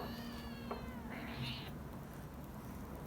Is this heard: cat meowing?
yes